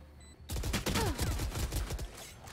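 Gunfire in the shooter game Valorant: a rapid burst of several sharp, loud shots in quick succession, followed by trailing echoes and game effects.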